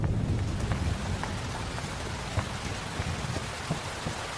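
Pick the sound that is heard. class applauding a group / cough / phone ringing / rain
rain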